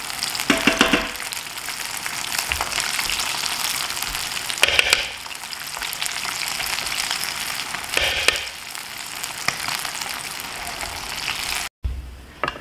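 Fish pieces deep-frying a second time in hot oil, a steady broadband crackle and hiss with a few louder bursts of spattering, close and continuous throughout, with no talking.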